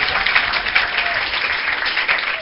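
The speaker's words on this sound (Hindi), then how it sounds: "ताली मारो।" A school summer-camp audience at a prize-giving claps together in a steady, close burst of applause that carries on throughout without pausing.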